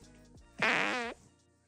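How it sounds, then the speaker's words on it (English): A single loud, close fart lasting about half a second, with a buzzing, pitch-wavering tone and no talk over it. "That's a fart."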